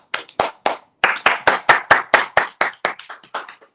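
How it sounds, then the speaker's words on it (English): A single person claps for speaker Sheree White at a talk, about sixteen sharp, close claps in an uneven rhythm with a brief pause near the start, heard alone without voices. "He's applauding you"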